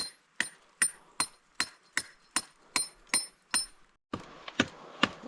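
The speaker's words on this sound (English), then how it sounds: "That's a miner hammer right there" A miner's hammer strikes rock outdoors on a gold mine hike, about eleven sharp, ringing blows at a steady rhythm of roughly two per second, loud and close, with no talk.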